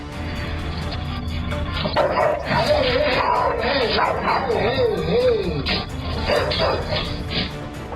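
A guard dog barks and yips on a security camera recording, several sharp barks with rising whine-like tones over a steady background hiss, close and fairly loud.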